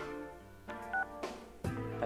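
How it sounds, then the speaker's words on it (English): A home phone number is dialed in the Persona 4 Arena video game, with a steady dial tone broken by several short, bright keypad beeps in an uneven sequence. "Guess I'll try his home phone too."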